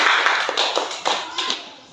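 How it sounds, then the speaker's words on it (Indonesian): A classroom of students claps briefly after a discussion, a few bursts of hand claps in loose rhythm that quickly taper off, fairly quiet with some room noise. "Iya, tepuk tangan dulu."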